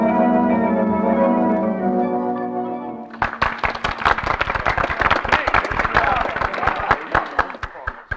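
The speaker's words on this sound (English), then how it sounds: "you can stop applauding now" Old-time radio drama sound effect of an audience applauding at a Punch and Judy show, sharp crowded clapping bursting in after a sustained musical chord and continuing steadily.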